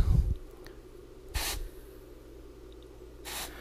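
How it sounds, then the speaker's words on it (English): Freeze spray hisses onto a TV main board in two short, sharp bursts about two seconds apart, close and bright, with a faint low hum and a small clunk at the start. "take my freeze spray, and I'm going to cool off that general area right there"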